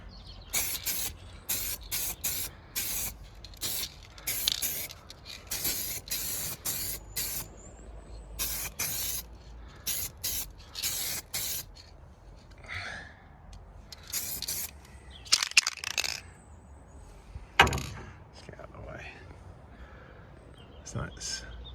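Repeated short bursts of spray paint hissing from a can or gun onto a military Jeep during a second coat, close and fairly loud, with quiet gaps between passes and a few clunks.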